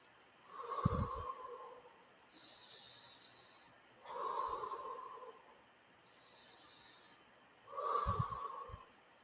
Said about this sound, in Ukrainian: Робимо вдих через ротик, видихаємо через носик.